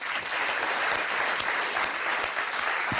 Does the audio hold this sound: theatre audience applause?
yes